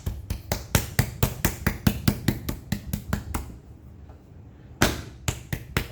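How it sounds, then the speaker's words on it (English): A slab of clay is slapped hard against a table again and again in a quick, steady rhythm. The loud, close thuds pause for about a second, then resume with a few more hits. "I'm going to stop hitting the clay like this"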